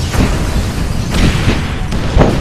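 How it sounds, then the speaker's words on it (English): Bomb detonation in Grand Theft Auto V during an FBI building raid: a steady roar of rumbling blasts with several booming bursts layered over a dense, continuous low rumble. "Let's detonate the bomb."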